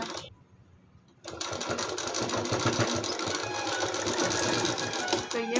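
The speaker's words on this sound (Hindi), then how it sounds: "इसी तरीके से किनारे किनारे पूरे पे सिलाई लगा देनी है। सब पाइपिंग लगते जा रहा है" A sewing machine stitches piping along a blouse edge, a brief quiet pause followed by a fast, even mechanical whir-and-clatter running close and steady to the end.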